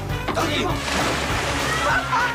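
A person is thrown into water together with a chair, a heavy splash followed by churning, sloshing water, with voices over it.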